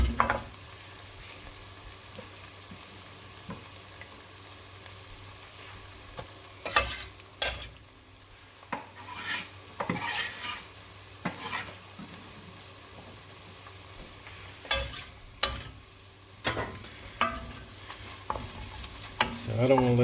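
Soft onions fry in olive oil under a low background sizzle, while a utensil scrapes and stirs through the pan in irregular bursts. No one speaks.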